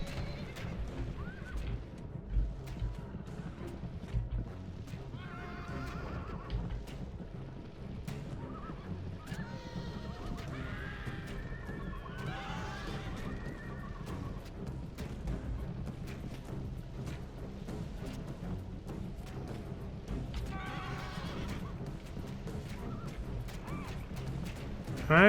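Cavalry horses whinny and neigh in an ancient Roman battle game, several spaced calls rising over a busy low rumble of battle noise and hoofbeats, moderately distant.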